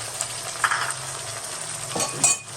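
Finely chopped tomato cooking in a pan over low heat, a steady soft sizzle with a few louder stirring scrapes near the end, no voices.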